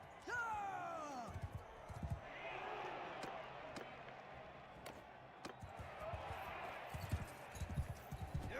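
Horse hooves thud in the medieval battle game Mount & Blade II: Bannerlord, a run of rhythmic clip-clop beats under a steady din of battle and crowd noise, with louder impacts near the end.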